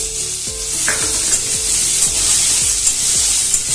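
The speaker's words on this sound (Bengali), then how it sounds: "এবার আমি এর মধ্যে 2টো শুকনো লঙ্কা ফাটিয়ে দিয়ে দেবো, আর দিয়ে দেবো গোটা জিরে।" Dried red chillies and whole cumin seeds sizzle in hot oil as a spoon scrapes the pan in steady, rhythmic stirring strokes, close and clear, with no talking.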